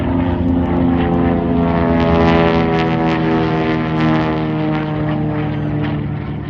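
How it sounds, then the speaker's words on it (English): A TBM Avenger propeller bomber takes off from a runway, its loud steady radial engine drone rumbling nearby and swelling slightly before easing off. "coming off the runway, one of 2 TBM Avengers we have in our bomber flight"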